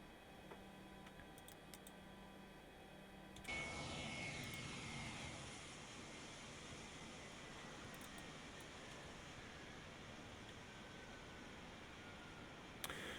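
A DC-9 airliner's engines in a flight simulator: a low drone with a faint whine is cut off by a sharp switch, after which a broad, steady rushing roar takes over and continues, with a few small ticks.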